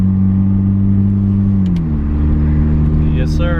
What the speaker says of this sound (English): So we're going to take a real quick short drive here.